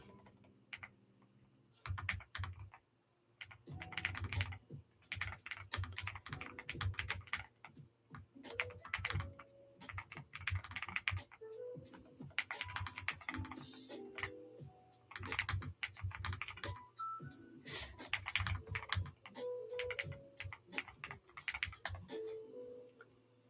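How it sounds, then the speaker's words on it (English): Fast, steady clacking of keys on a mechanical keyboard, close and clear, with bursts and short pauses of typing running throughout, no voices. "still getting used to this mechanical keyboard"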